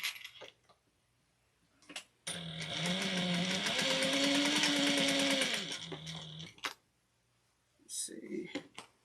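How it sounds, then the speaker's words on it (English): A home sewing machine runs one continuous burst of several seconds while stitching a half-inch seam with backstitching, its motor whirring steadily loud, with quiet handling noises before and after. "we're now going to sew a 1/2 inch seam allowance, back stitch well at the beginning and end"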